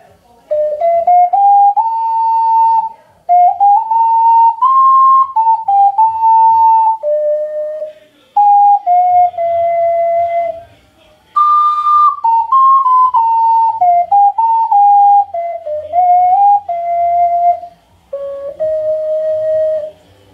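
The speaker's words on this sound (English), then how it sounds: "this is actually a good ocarina because of its quality. One, it's plastic. Two, it sounds great." Plastic Noble Soloist AC ocarina playing a breathy, pure whistling melody of held notes and short runs, close and fairly loud, in phrases broken by brief pauses.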